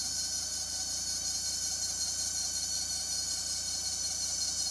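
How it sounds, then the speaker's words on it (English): A steady, loud high-pitched whine from a noisy pulley bearing on a 2G Eclipse engine during a power steering belt replacement, continuous and unbroken with a faint low hum underneath and no talking. "That sound like it could be a bearing on the pulley"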